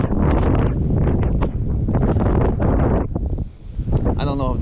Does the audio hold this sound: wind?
yes